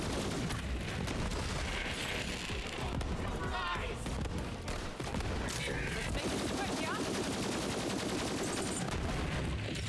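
Rapid gunfire and bursts from Borderlands 3 combat, loud and continuous with booming impacts and explosions throughout, dense and chaotic with little pause.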